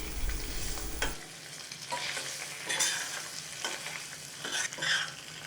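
A masala-coated boiled egg mixture is toasted lightly in a pan for Chettinad egg biryani, with soft sizzling and intermittent stirring scrapes, fairly quiet and close.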